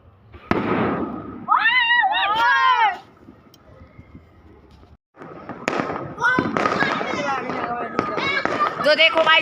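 New Year firecrackers and fireworks burst in sharp bangs and crackling volleys at night, with excited voices talking over the explosions.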